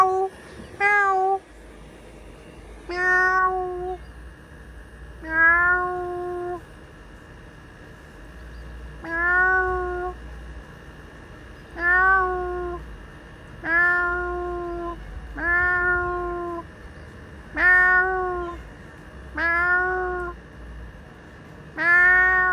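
A cat meows repeatedly, about ten drawn-out calls spaced a couple of seconds apart, close and clear over a low steady background hum.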